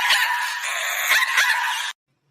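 A cartoon dog barks and whimpers in a continuous, loud, yelping run of cries lasting just under two seconds before abrupt silence.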